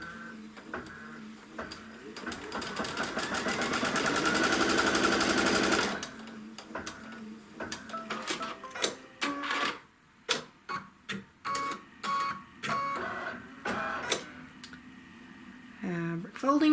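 A sewing machine stitches a seam on peach quilt fabric, running steadily for a few seconds, then in short bursts separated by pauses, with a person talking.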